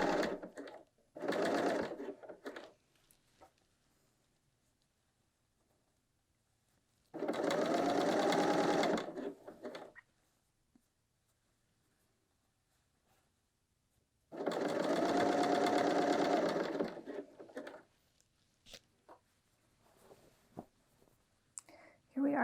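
A BERNINA L 890 sewing machine stitches a knit top in three close bursts, the first short and the later two longer, with quiet pauses between them and soft handling clicks.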